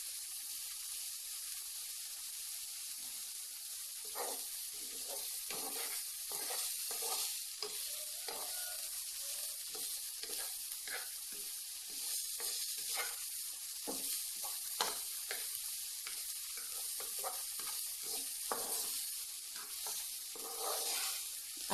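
Sliced potatoes frying gently in a little oil over low heat, a steady soft sizzle with repeated scraping and stirring strokes of a utensil throughout, close and fairly quiet, no talking.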